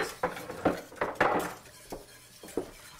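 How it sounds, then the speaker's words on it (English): A utensil clinks and scrapes against a pot while a butter and flour roux is stirred for mac and cheese, a handful of sharp, close knocks over about three seconds. "So we'll just stir that."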